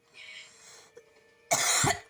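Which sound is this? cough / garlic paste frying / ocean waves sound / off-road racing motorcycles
cough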